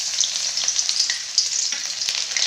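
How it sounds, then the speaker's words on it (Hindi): Garlic frying in hot oil in a kadai, a steady loud sizzle with crackling pops throughout, no voices. "तेल अब गरम हो गए हेवे, तो एमा डाल देता हूँ मैं लहसुन"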